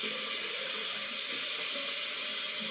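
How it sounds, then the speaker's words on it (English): Hot water runs steadily from a tap into a sink, a close, continuous hissing splash with no other sounds. "This is hot water you turn off."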